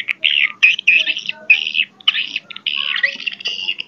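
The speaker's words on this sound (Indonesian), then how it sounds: "Ini cuitan panjang." Swiftlets chirp in a long, continuous mating call of high twittering notes, close and clear, with brief gaps between phrases.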